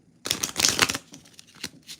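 A deck of inspirational cards is shuffled close by, giving a rapid riffling flutter followed by a few softer taps and slides.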